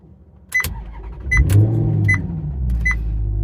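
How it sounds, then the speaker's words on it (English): A car at a JDM car meet starts up: a few sharp clicks and beeps, then the engine catches and settles into a loud, steady idle rumble close by. "let's start up the car"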